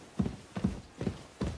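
Horse hooves clip-clop at a steady walking pace in the video game Kingdom Come Deliverance 2, four distinct paired hoof strikes, close and fairly quiet, with no talk.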